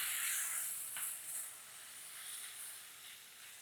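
Rice and spices sizzling and frying in a pan while being stirred, for a Maharashtrian spiced rice with ivy gourd; a steady close hiss with soft scraping, alone without talk.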